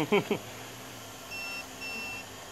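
Two thin electronic beeps from a digital torque wrench sound in a row, each about a third of a second, following a brief burst of speech.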